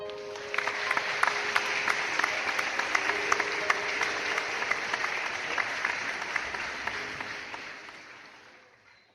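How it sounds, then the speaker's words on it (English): An audience applauds GED graduates at a 2023 graduation ceremony, with steady, dense clapping from a sizable crowd that rises quickly and then tapers off near the end. "Please give them a round of applause."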